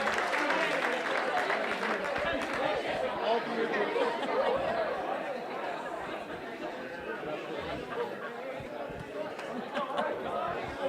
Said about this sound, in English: give yourselves a wild round of applause and have a seat